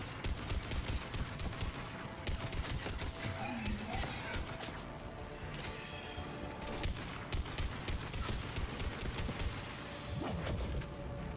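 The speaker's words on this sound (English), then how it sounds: "I am apparently really bad at shooting because I have missed just about every shot on those two cannibals" Sustained gunfire from a firefight in the video game Mass Effect 3, rapid overlapping shots in a continuous barrage, with a voice talking over the din.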